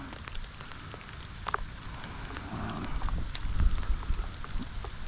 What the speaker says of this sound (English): Here comes a little bout of rain again.